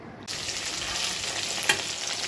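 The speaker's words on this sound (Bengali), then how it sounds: "বিরিয়ানি চিকেনগুলো ভাজা শুরু করে দিয়েছি, কিছুটা ভাজা হয়েছে।" About 1 kg of chicken pieces for biryani sizzle steadily in a pan of hot oil, a continuous close frying hiss with a brief crackle partway through, and no talking.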